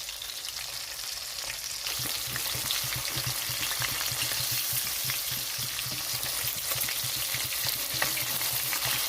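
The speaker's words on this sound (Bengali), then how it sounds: "এখানে মাছটা ভাজা হচ্ছে" Pieces of bhetki fish fry in hot oil in a pan, a loud close continuous sizzle with crackling spatter that swells after the first couple of seconds and holds steady.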